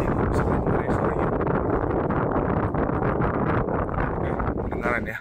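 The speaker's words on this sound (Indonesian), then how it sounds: "Nah, menunjukkan kalau ada angin ini AC. Bisa dengar ya suaranya." An air conditioner vent aboard the Pelni passenger ship KM Sinabung blows a loud, steady rush of air close to the microphone, a dense broadband hiss that lasts the whole stretch without a break.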